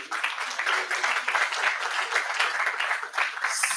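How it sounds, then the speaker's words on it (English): At a business intelligence session of a data forum in Brighton, an audience applauds, steady dense clapping that carries on evenly for several seconds at moderate loudness. "we need to deserve one more round of applause"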